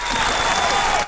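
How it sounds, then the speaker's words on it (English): A concert audience keeps up a dense round of applause, loud and continuous throughout, with a crowd murmur mixed in. "Keep the round of applause going, Tone."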